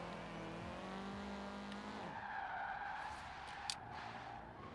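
Car tires skidding through a 360-degree spin in the racing game Forza Horizon 4, with a steady engine drone giving way to a sustained broad screech that runs alone for several seconds.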